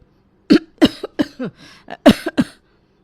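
A fit of harsh, close coughing, several rough bursts in quick succession with brief pauses between them.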